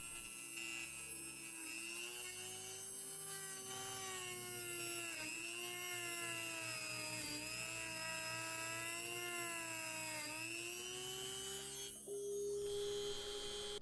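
Metal body of a diecast Chevy Camaro being polished with a small high-speed rotary tool, giving a steady whining drone that wavers slightly in pitch, close and continuous throughout with no talk.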